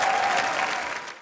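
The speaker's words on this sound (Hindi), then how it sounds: "एक बार डैडी की पूरी कास्ट के लिए जोरदार तालियां।" A brief burst of studio audience applause at a television comedy show, a thick wash of many hands clapping that holds steady, then quickly fades away.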